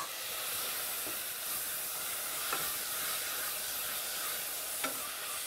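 Chopped tomatoes sizzle with caramelized onion in a pan, a steady bright hiss of frying that runs continuously, with a couple of soft scraping clicks from stirring, no voices.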